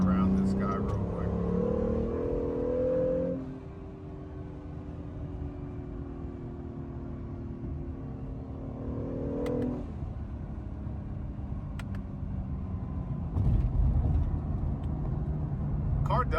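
An Acura NSX with an aftermarket diverter valve drives along, its engine note dropping as a release hiss follows the throttle lift, then steady road noise and cabin hum continue under occasional talk.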